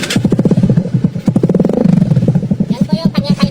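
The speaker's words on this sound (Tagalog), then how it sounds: "Yan po yung tunog ng kanyang kalkal pipe." Skygo Prince 125 motorcycle with an aftermarket kalkal exhaust pipe and rapid-backfire setting, sounding a close, loud, choppy burst of pulsing exhaust beats that rise and fall in short revs.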